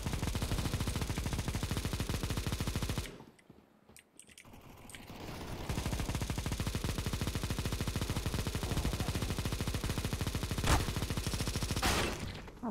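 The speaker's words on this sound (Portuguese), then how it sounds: "eu só tô ouvindo o tiro" Rapid gunfire in a first-person shooter game, including a Negev machine gun, with dense sustained bursts that drop out briefly and resume, plus a few sharper single shots near the end.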